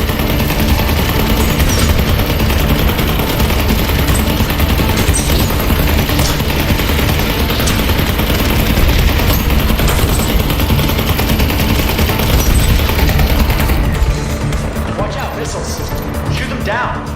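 Sustained gunfire in the video game Vertigo 2, shooting at Blade gunships, forms a dense, loud, continuous barrage of shots and impacts under game noise, thinning out near the end.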